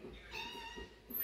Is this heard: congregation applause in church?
no